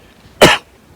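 One harsh, loud cough from a man, brief and close, rising out of near silence and then fading.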